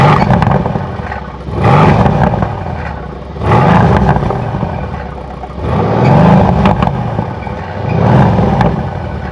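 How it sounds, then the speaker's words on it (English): A 2017 Mercedes C63 AMG with a bi-turbo V8 surges through four repeated bursts of throttle, each exhaust swell rising loud and close before easing back between pulls. "every time you hit the gas, every time I hear the exhaust,"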